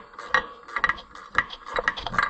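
Bolts being tightened with a ratchet wrench while an Oliver 66 tractor is reassembled, a series of quick mechanical clicking bursts in uneven groups, close and moderately loud, with no talking.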